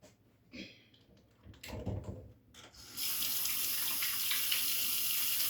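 Tap water runs steadily from about three seconds onward as hands are washed at a sink, a close, continuous hiss that follows a few quieter handling sounds.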